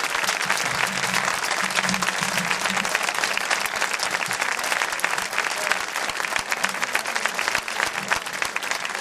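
Dense, loud audience applause for a tenor singer at a live music evening, continuous crowd clapping throughout with a faint vocal murmur underneath.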